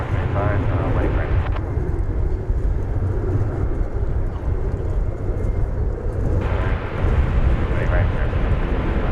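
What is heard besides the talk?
airplane landing at DFW Airport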